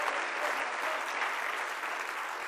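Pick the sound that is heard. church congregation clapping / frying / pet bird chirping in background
church congregation clapping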